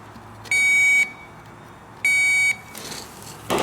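Two short electronic continuity beeps from a digital multimeter (DVOM) tested on a Camaro brake light circuit, each about half a second long and evenly spaced, clear over a quiet background.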